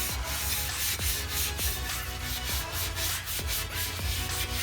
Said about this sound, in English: take a dry Scotch-Brite and work up and down the metal in the same direction